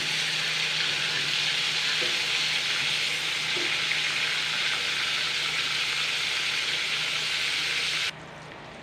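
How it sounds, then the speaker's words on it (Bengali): Pointed gourd (potol) pieces fry in a pan with a steady, close sizzle that runs unbroken for most of the stretch, then drops to a softer hiss near the end. "উল্টে পাল্টে ভাজতে হবে এগুলো সব।"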